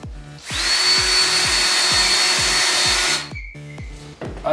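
A cordless screwdriver bores into a soft wooden Durafloor baseboard, one loud sustained whirring burst of about three seconds close by, with rhythmic clicking underneath, then spinning down.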